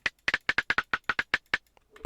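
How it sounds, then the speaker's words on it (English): Rim shot drum sample in an FL Studio beat, a crisp woody click repeating in a quick, rolling pattern of about a dozen hits, mid-level and alone, ending with a softer thud. "this little rim shot thing,"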